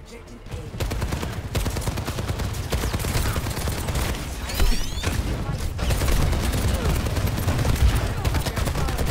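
Bastion's rapid, sustained gunfire in an Overwatch 2 match, loud and continuous over dense game noise, with staccato bursts overlapping other weapon fire throughout.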